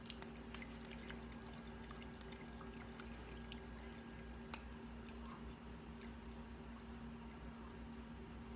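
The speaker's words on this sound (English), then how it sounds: "then we're going to add the milk" Milk pours into a bread pudding mixture with a soft, steady liquid stream and faint splashing, quiet and close, with no talking.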